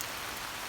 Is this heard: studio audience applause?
no